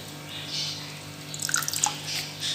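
Mustard greens and spinach are rinsed under open running water, with soft trickling, dripping and light splashes at moderate distance and no talk.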